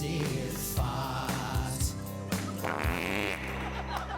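A long, loud, sputtering fart in a comedy sketch, rippling and bubbling over about four seconds with several distinct bursts and pitch wobbles, close and dominant.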